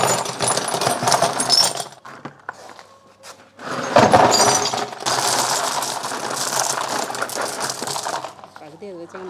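Broken stone and tile pieces are dropped into a planting drum for a fruit tree. Close, hard clattering knocks come in several separate bursts with short pauses between them.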